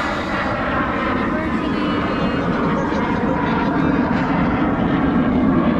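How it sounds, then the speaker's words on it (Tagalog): A fighter jet passes overhead near Virginia Beach, a loud, unbroken rumbling roar that holds throughout, with people talking underneath. "May fighter jet."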